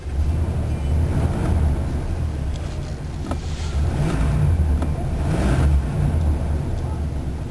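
A 1985 Chevrolet Caprice Classic's engine runs just after start-up, with a loud, steady low rumble that swells slightly in places, and voices are heard faintly over it.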